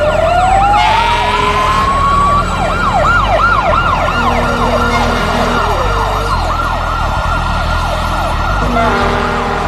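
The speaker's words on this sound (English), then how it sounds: "From across the city, 11 fire engines race downtown." Wailing emergency sirens from fire engines racing downtown through Oklahoma City after the bombing, several overlapping yelps and wails sweeping up and down continuously over low traffic rumble, loud and fairly near throughout.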